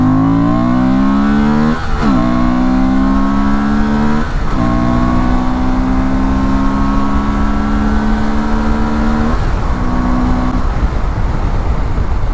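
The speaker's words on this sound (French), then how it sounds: "Alors on va se faire un petit test d'accélération là" A 2024 Honda Transalp 750 motorcycle engine revs hard and loud, pitch climbing steeply through several gear changes with brief dips between, close and continuous.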